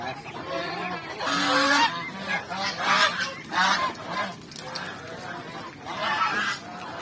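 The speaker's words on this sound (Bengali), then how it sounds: "দেখেন কত পরিমাণ রাজাহাঁস" A flock of domestic geese on a farm honks loudly and repeatedly, overlapping calls rising in bursts, close by.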